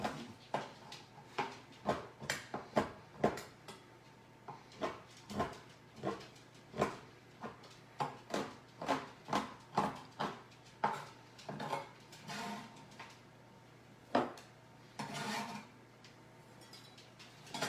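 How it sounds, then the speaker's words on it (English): Two chocolate bars are rough-chopped with a kitchen knife on a board, giving a rapid, steady series of sharp chops. There are brief pauses between bursts, close up and fairly quiet. "And I'm just rough chopping it. Doesn't need to be exact."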